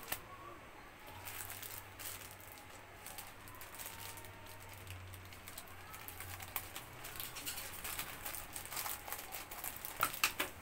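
A parcel package being opened by hand for New Year backdrop decorations, with soft crinkling, tapping and rustling of packaging, close and fairly quiet, a few sharper crackles near the end.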